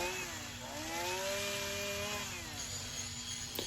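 A chainsaw drones steadily at close range, its engine pitch rising and then falling as it carves a wooden gnome, loud and continuous throughout.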